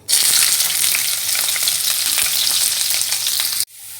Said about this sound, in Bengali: এখন তেলের ভিতরে রসুন আর পেঁয়াজ দিয়ে দিচ্ছি।